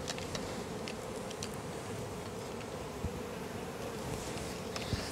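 Honeybees, mostly nurse bees, buzz steadily in a dense, close swarm at an open hive during inspection, with a few sharp clicks and knocks scattered through the drone.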